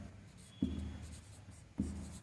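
A pen scratches on paper while a maths solution is written out, soft scribbling punctuated by two firm, close strokes about a second apart.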